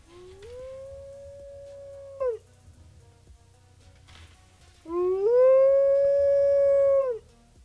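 A canine howl, like a dog or wolf, rises into two long sustained wailing calls separated by a short pause. The second call is louder and fuller than the first.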